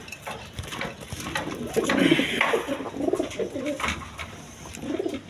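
Pigeons, a breeding pair of hen and cock, coo in soft, throaty, repeated calls close by, with a faint clatter now and then.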